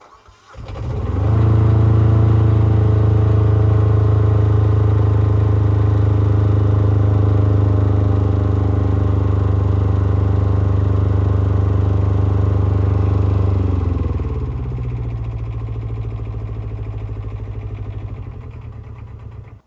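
Diesel engine of a Leguan 190 spider lift running steadily and loud close by, a strong low drone with a brief rise at the start and a slight drop in speed near the end, with no talk over it.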